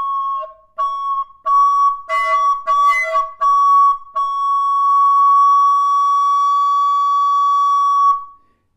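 A recorder plays a pure, steady note, first in short separate toots with breathy bursts in between, then held as one long sustained tone lasting several seconds before it cuts off.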